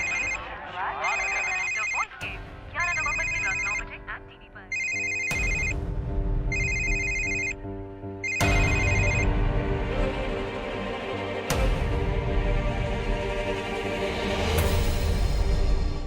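A phone ringtone plays in repeated bursts of a bright electronic melody, loud and close, over background music and voices.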